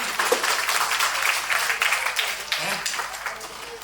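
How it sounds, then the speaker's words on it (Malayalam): Audience at a motivational class breaks into a loud, dense round of clapping that fills the whole stretch, with a voice heard faintly underneath. "ഒരു ക്ലാപ്പ്."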